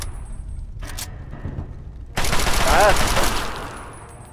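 Rapid bursts of gunfire in the video game Fallout 3, a loud volley erupting partway through after quieter shots, with someone talking over it.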